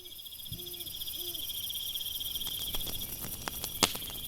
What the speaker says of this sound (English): The chirping of crickets